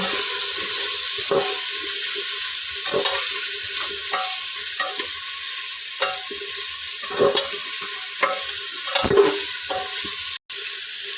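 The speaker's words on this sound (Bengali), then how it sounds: "এবার ভালোভাবে নেড়ে চেড়ে নেব।" Spices with cumin powder, salt and turmeric stirred in a pressure cooker, a soft continuous sizzle broken by repeated scraping strokes of a spoon against the metal pot every second or so, close by, with no talking.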